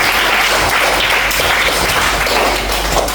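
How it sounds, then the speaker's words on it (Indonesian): A group applauds during a school guidance session, a sustained wash of many hands clapping, dense and steady, fairly loud with no talk over it. "tepuk tangan untuk dirinya"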